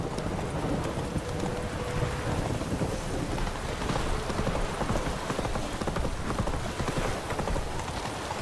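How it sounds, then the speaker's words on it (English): A horse gallops in the video game Witcher 3, its hooves drumming in a rapid steady rhythm under a dense wash of rain and rumbling storm noise. "Run, Roach."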